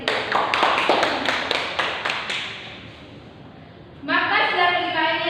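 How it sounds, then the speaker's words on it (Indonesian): Children clapping their hands in a primary school class, a quick burst of close, crisp claps lasting about two seconds that fades out, followed by a voice speaking. "Tepuk tangan untuk adik Titin."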